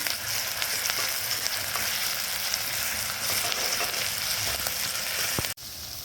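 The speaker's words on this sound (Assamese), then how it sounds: "আদা নহৰু কেঁচা গোন্ধটো যোৱালৈকে অকণমান ভাজিম।" Steady, dense sizzling of ginger and garlic frying in a hot pan, with occasional stirring clicks, ending abruptly near the close.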